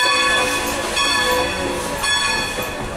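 A passenger train rolls loudly past on railroad tracks close by, the rumble steady with sustained tonal horn or wheel squeal tones above it.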